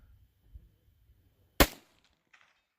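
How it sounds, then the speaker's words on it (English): One sharp crack of a .22 Magnum rifle at an outdoor range, near and loud, alone, with faint bumps before it and a short tail after. "Oh, I threw that shot."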